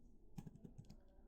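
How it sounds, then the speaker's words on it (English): A message typed on a computer keyboard: a quick, faint run of about six key presses, close by, in a quiet room. "After this, if you type a message"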